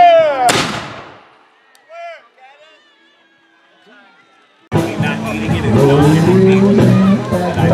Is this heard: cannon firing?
yes